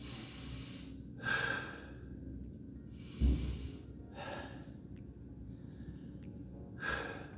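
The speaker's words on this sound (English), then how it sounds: "breathing in through your nose, out through your mouth" Slow, quiet breaths drawn in through the nose and let out through the mouth, several soft airy puffs spaced apart with one heavier exhale, close to the microphone.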